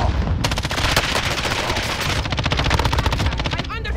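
Rapid automatic gunfire bursts from a Call of Duty: Modern Warfare match, loud and close, with several sustained strings of shots and short gaps between them.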